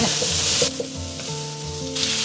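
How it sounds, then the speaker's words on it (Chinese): Green beans and potatoes stir-fried in a wok, a loud steady sizzle with scraping stirs throughout, a brief lull midway before the hiss picks back up. "我们再把四季豆跟土豆放上去煸炒"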